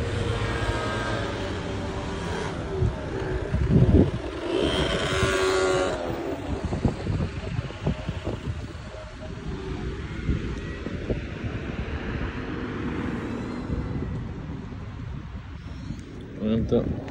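A scooter being driven through a park lined with date palms on a summer day, its steady engine drone mostly buried under heavy wind rush against the microphone, with a voice talking over the ride.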